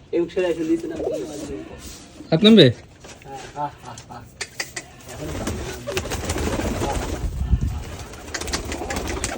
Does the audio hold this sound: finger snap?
no